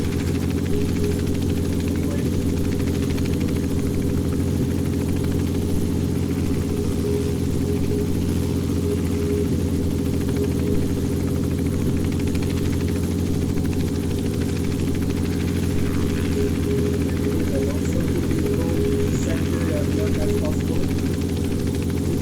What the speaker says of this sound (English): You're still flying helicopter.